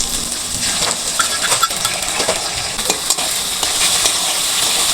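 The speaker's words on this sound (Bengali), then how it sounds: "এখন আমি ডিমটা ঢেলে ভেজে নেব।" Egg sizzles loudly in a hot pan while pasta is being cooked, a continuous close frying hiss with a few scraping stirs and light clinks, with no talking.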